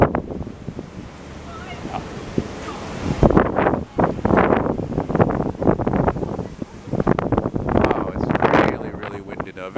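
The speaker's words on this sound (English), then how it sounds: "Very, very windy." Strong gusts roar across a downtown street along McGill College in Montreal, a broad rumbling buffet on the microphone that swells and drops in surges, with a person talking over it.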